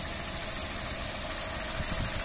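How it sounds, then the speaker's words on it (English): A Honda Jazz 1.4 petrol automatic engine, recently serviced, idles steadily with a smooth, low hum and slight vibration, no voices present. "Engine sound very nice and smooth"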